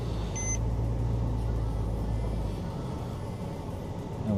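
A Porsche Cayman engine turns over and settles into a low, rough idle, a steady close rumble with a short beep near the start and no talking.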